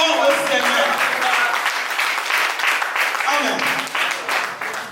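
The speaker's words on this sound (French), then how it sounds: "Acclame très fort le Seigneur." A church congregation at a prophetic worship service claps loudly and steadily for the Lord, a dense, sustained wash of applause with voices rising through it, fading slightly toward the end.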